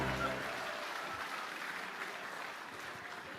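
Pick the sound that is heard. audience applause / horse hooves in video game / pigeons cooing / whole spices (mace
audience applause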